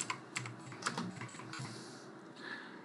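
Typing a search on a computer keyboard, a quick run of light close keystrokes at an uneven pace, fading to quieter background noise toward the end.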